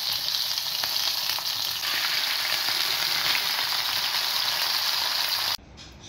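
Peshawari chapli kebabs fry in a pan with a loud, continuous sizzle that runs strong and then cuts to a quieter hiss near the end, with no talking.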